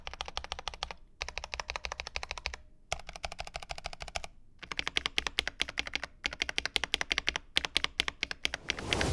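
Fast, close typing on a Corsair K65 Plus Wireless mechanical keyboard with MX-style switches, crisp clacky keystrokes in rapid bursts separated by short pauses.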